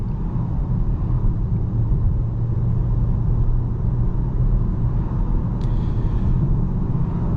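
A 2025 Volvo XC40 cruises on a road at around 45 mph, giving a steady low road and engine rumble with tyre noise, constant and close from inside the cabin.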